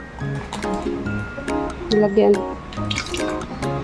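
Water drips and trickles into a pot in short bursts while a person talks over it, the liquid sounds fairly close.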